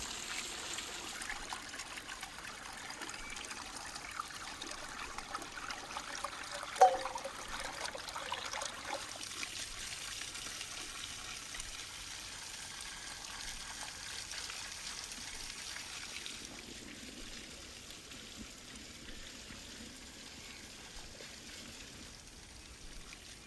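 Tap water runs steadily over beef ribs being rinsed, a continuous soft trickle and splash with one sharp clink partway through, the flow easing slightly toward the end.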